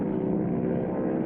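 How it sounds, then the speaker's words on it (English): A propeller airplane's steady engine drone in an old radio drama sound effect, a short, even, mid-loud hum without voices. "Here comes the plane."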